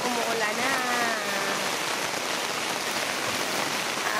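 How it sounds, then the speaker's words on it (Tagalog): Steady rain falls through the morning, a dense continuous hiss of drops on surfaces; a faint voice and some tonal sounds float over it early on, then only the even downpour remains. "Umaga pa lang, umuulan na"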